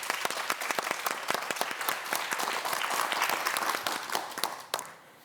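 A KBS morning-show studio audience welcomes Professor Son Young-jae, a Boramae Hospital neurosurgeon, with crisp, close applause full of distinct individual claps before it trails off.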